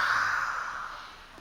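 Open-mouth breath out making a soft H sound, like fogging glasses to clean them: a single faint, airy hiss that slowly fades over about a second and a half, close and alone.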